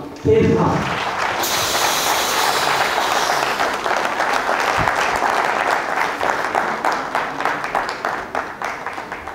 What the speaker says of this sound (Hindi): बड़े ही मान और सम्मान के साथ आपकी तालियों के साथ please welcome on the stage